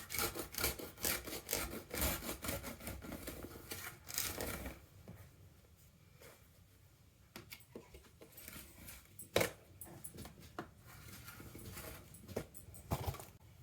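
A blade cutting along a ruler held down with a grip bar, giving repeated rasping, scraping strokes, busier in the first few seconds and then scattered, sharper scrapes, close and fairly quiet.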